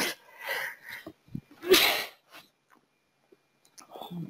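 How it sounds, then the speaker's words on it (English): A single sharp sneeze bursts out during a quiet indoor talk, preceded by short breathy inhalations and followed by faint murmuring and soft sounds. "I had to sneeze"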